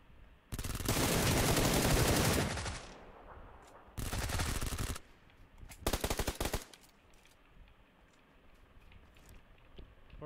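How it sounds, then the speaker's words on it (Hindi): Shotgun blasts and rapid gunfire ring out in PUBG Lite, loud and close in several bursts, with the last sharp volley trailing into quieter game ambience. "ये शॉट गन ही है साले"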